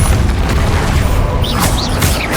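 The Depulso spell is cast in Hogwarts Legacy, giving a loud booming burst inside a dense, continuous wash of game effects, with brief whooshing swells near the end.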